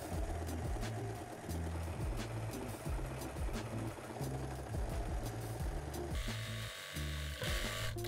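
A sewing machine runs a fake overlock stitch along a fraying fabric edge, loud close-up rapid mechanical chattering in short repeated bursts with brief pauses, slowing and shifting near the end.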